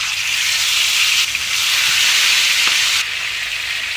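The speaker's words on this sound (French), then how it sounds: "On va mettre de l'huile pour griller notre poulet." Chicken grilling in oil in a pan, a steady close sizzle and hiss of frying that swells and eases slightly, with a faint clink partway through and no talking.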